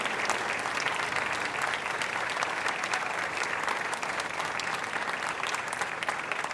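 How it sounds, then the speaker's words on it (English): A crowd at an outdoor fireworks event applauds soldiers with dense, sustained clapping at an even level from start to finish. "Give these brave soldiers a round of applause"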